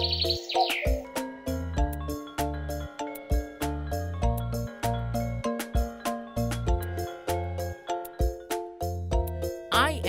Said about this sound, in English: you can appreciate a magnified view of the clock's mechanical movements, as well as the cuckoo bird that announces the time